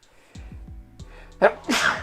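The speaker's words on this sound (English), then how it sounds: "oh, I'm going to sneeze" A single sharp sneeze near the end, preceded by a few soft breathy catches and a quick inhale.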